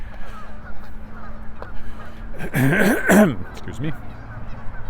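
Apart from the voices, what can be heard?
geese honking at a lake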